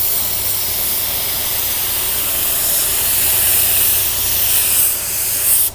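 A budget LVLP automotive paint gun lays down a second coat in a steady, continuous broadband hiss of atomized spray, close and loud, running unbroken for several seconds before cutting off.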